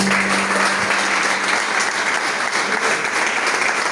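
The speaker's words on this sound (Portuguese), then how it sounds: "Aplausos para Jesus bem forte." A church congregation applauds loudly and steadily for about four seconds, a dense wash of clapping from a large group with no pauses.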